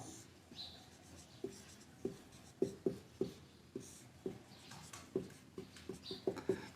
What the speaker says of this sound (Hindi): तो सबसे पहले अपन लिख लेते हैं, जो दिया हुआ वो लिखेंगे।